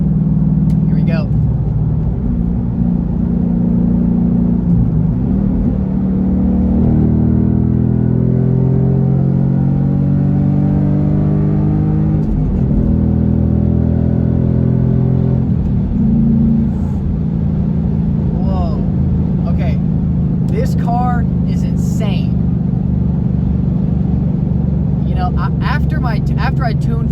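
A 2015 Ford Mustang GT pulls hard through the gears, its V8 note rising and falling in repeated upshift sweeps, loud and close from inside the car, with someone talking over parts of the run.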